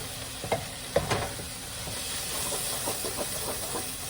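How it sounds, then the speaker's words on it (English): Cabbage hisses and sizzles steadily in hot oil, with a couple of louder pops near the start; no one speaks. "so it's really frying now"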